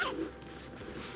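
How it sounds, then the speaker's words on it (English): Zipper on a Coach purse pocket being pulled, a short close rasping zip that fades within about a second. "The zipper works very nice."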